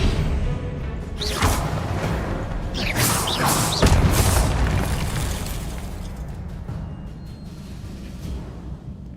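Spell blasts from Hogwarts Legacy, with a Confringo fire curse and an Expelliarmus disarming charm producing whooshing bursts, crackling impacts and a heavy boom near the middle, then fading into a softer rumbling tail.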